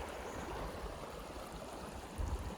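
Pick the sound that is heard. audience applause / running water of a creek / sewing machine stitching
running water of a creek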